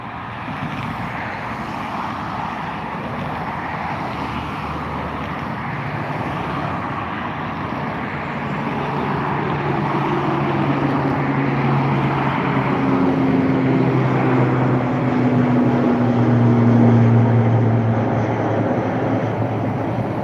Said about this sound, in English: taking off now, we have the ATR 72 to Manchester